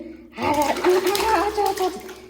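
Water sloshes and splashes during a child's bath at home, continuous after a short quiet start, heard under an adult's sing-song talk and a voice.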